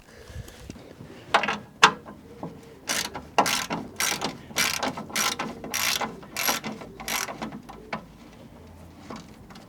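A ratchet wrench undoing 10mm bumper bolts on a Citroen 2CV, with bursts of rapid clicking ratchet strokes, close and fairly loud, separated by short pauses.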